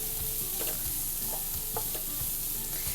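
Green gram leaves frying in a pan for thoran while being stirred, an even sizzling hiss broken by several soft spatula scrapes and taps at irregular intervals, close and unvoiced.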